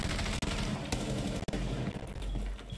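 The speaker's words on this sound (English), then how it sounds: "They did see the gunfire" Gunfire in a collegiate Rainbow Six match between Marietta College and Army West Point: dense, loud bursts of shots crackle back to back with a couple of brief gaps.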